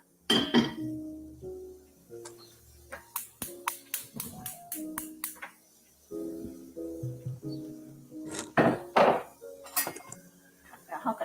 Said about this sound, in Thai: น้อยกะตั้งกระทะนะคะ ตั้งกระทะเพื่อจะเอาไปขัวก่อนนะคะ